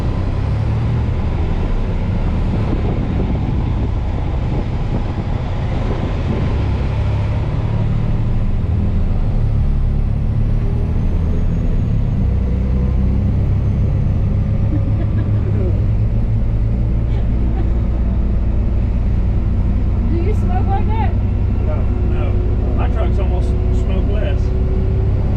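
A naturally aspirated M35 Deuce military truck rumbles steadily with a loud low engine drone throughout, some higher mechanical whines later, and voices talking over it.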